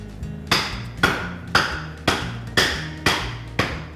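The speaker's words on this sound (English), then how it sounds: "So we'll start by cracking open the coconut." Seven sharp, hard knocks strike a coconut being cracked open at a steady pace about half a second apart, each a loud crack against something solid.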